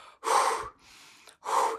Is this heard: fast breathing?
yes